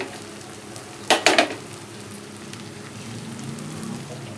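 Egg frying in a pan with garlic and green chili: a steady soft sizzle with a brief burst of louder crackling spatter partway through, then a gentle continuing fry.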